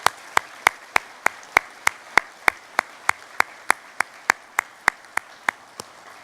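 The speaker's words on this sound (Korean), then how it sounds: "우리 하나님께 큰 감사와 영광의 박수 한번 올려드리겠습니다." Slow, evenly spaced single claps, about twenty sharp beats in unison, from a church congregation during a twentieth-anniversary worship service, fairly close and loud with no talk over them.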